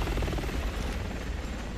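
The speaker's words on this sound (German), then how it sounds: "Komm, der Helikopter muss sich drehen." A helicopter in the Resident Evil 6 video game gives a steady low rotor drone with a rapid thumping pulse, continuous and fairly loud throughout the short moment.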